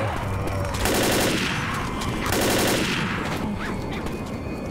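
Rapid automatic gunfire in the zombie shooter game Left 4 Dead, dense repeated bursts of shots that swell and ease in waves, loud and close, with game noise behind.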